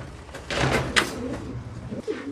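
Pigeons coo softly in a loft, with a few low murmuring calls and light rustles and clicks nearby, quiet and close with no talking.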